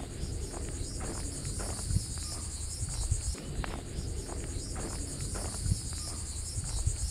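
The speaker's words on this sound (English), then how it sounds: "You can probably hear that sound back there. Those are cicadas." Cicadas buzz in a continuous high drone beside a Florida hiking trail near the Jupiter Inlet lighthouse, steady and fairly loud, with faint footsteps and breeze beneath.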